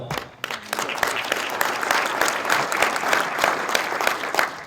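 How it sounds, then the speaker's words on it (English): Audience applause at a public talk, a fairly loud burst of many hands clapping that builds quickly and holds steady, with a rapid, irregular clatter of claps. "And hold your applause because bad news is coming."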